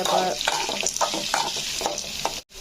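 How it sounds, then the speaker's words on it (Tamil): Onion, green chilli and coriander sauté in a pan with a steady close sizzle and repeated scraping strokes of a stirring spoon, in a home kitchen making kara kuzhi paniyaram. "இதை ஆட் பண்ணி நல்லா வதங்கட்டும் ஃப்ரெண்ட்ஸ்."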